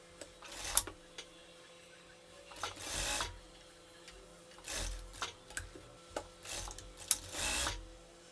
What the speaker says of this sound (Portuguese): eu vou lá para a máquina reta também, passar uma costura aqui nesse decote total